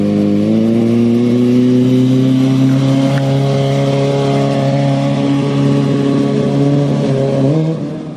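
Stunt motorcycle engine held at high revs with the throttle turned up hard, a loud, steady, droning roar that holds for several seconds before easing off at the end.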